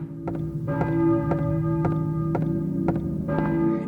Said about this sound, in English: he hears the dolorous chiming of bells